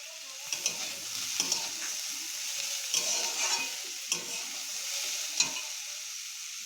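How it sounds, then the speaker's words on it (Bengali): Chopped onions, ginger and garlic frying in a pan make a quiet, even sizzle, broken by repeated sharp scrapes and clicks of a spatula as they are stirred, with no speech. "যতক্ষণ না পেঁয়াজগুলো লাল হয়ে যাচ্ছে ততক্ষণ আমরা এটা ভাজবো।"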